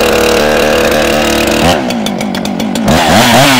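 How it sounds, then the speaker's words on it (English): A chainsaw engine running at high idle as it warms up after starting, a loud, close, continuous buzzing drone that dips and revs unevenly partway through, with no talking. "before you ever engage the wood, you let the saw warm up"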